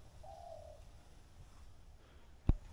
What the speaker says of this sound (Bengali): তো এখানে ঘুঘুর ডাক শোনা যাচ্ছে